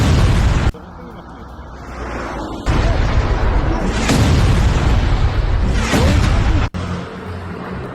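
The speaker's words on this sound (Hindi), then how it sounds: "देखिए कैसे हवा में ही इन मिसाइलों को इंटरसेप्ट किया गया है।" Loud booms and blasts from Iranian ballistic missiles being intercepted in the air over Tel Aviv, several heavy bursts rolling through a dense, roaring background with sharp cutoffs between segments.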